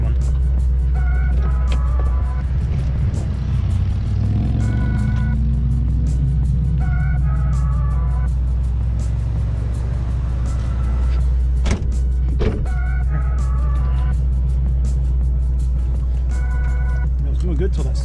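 A 900-horsepower 2004 Ford Mustang Cobra eases off the line on a quarter-mile drag strip, its engine a loud, constant low rumble heard from inside the car, with people talking over it.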